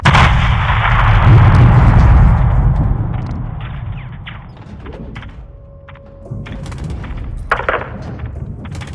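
Heavy 40mm cannon fire from an AC-130 gunship in Call of Duty Modern Warfare 2, close air support mission: loud booming thuds and rumbling impacts in the first few seconds, then fainter scattered thumps and distant shots.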